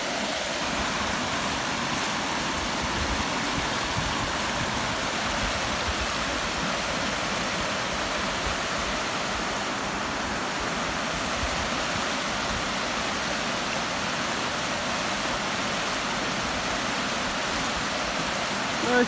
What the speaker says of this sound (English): Soothing sounds of the water.